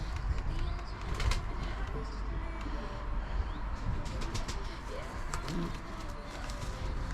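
Young racing pigeons, early-season birds at a loft before a training flight, coo softly amid a steady hum of outdoor background noise, with occasional wing flutters and faint chirps throughout.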